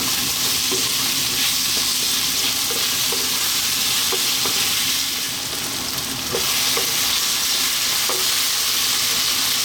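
Vegetables for a Greek-style vegetable stew sizzle over high heat in a loud, continuous fry, with occasional stirring clinks and a brief dip in the crackle midway.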